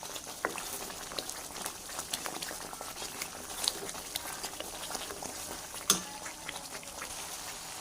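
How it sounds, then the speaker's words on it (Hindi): Food frying in oil in a pan until the oil separates, heard as a soft, steady bubbling crackle with scattered light pops and one brief sharper tap, quiet and with no one speaking. "इसी तरह हमने फ्राई करते जाना है।"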